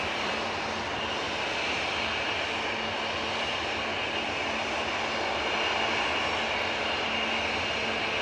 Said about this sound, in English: Ryanair on the roll now.